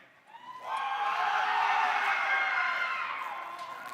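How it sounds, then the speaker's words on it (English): Team supporters at the Blue Ridge Brawl erupt in a sustained crowd cheer with whoops, rising sharply after a quiet start and holding loud for several seconds before easing slightly. "We need to hear some team cheering."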